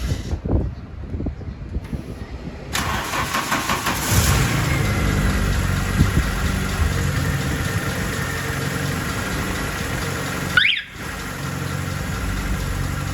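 An Mk1 Velociti car engine idles steadily after a radiator flush, a continuous mid-level hum with a brief pause near the end. A few knocks and handling noises come at the start.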